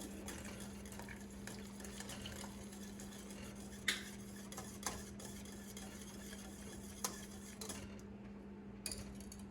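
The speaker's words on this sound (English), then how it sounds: "we're gonna pour this in there and we're gonna whisk it as we pour it in here and see if we can thicken this up" Thickener being whisked into a simmering pineapple pork sauce on a stovetop gives a steady low bubbling hum with soft stirring, and a few light clinks of a utensil against the pot come through. No one speaks.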